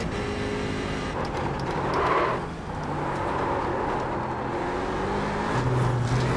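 A Daytona prototype race car's engine in a racing video game, a steady close drone and whir that swells briefly as it revs, continuous throughout.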